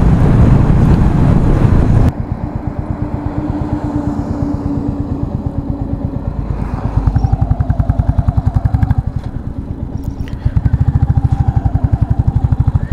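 A motorcycle rides along a road at night, its engine giving a steady, loud, pulsing drone under strong wind rush, with the revs shifting slightly as it cruises.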